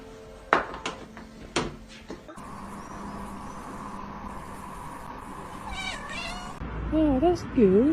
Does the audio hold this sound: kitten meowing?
yes